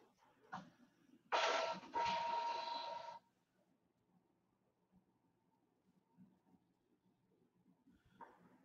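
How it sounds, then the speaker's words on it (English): A home printer running on its own in a quiet room, one loud mechanical burst of roughly two seconds with a short break partway through, then faint scattered background noises. "My printer is like randomly printing."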